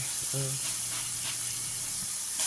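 Coconut milk sizzles steadily in a pan as it cooks down into coconut oil, a constant close hiss with a brief voice-like tone near the start.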